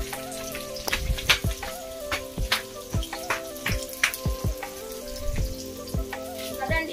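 Onions drop into hot oil in a home kitchen pan, crackling and sizzling steadily with sharp spitting pops and occasional stirring clinks, close up and without talk.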